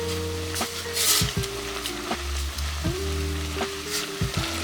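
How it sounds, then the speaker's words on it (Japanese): White wine with onions reducing over high heat in a pot, a steady close sizzle and bubbling with occasional stirring clinks, no talk. "ここからは強火でアルコールを飛ばしていきます"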